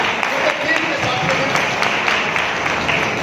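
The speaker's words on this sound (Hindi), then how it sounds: "एक बार जीत के साथियों के लिए जोरदार तालियां बजाएं" An audience at a celebration speech event applauds loudly and steadily, a dense continuous patter of many hands clapping that fills the room throughout.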